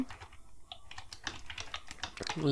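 Quick, continuous tapping on a computer keyboard while HTML form code is typed, dense clicks close up and fairly loud, no speech.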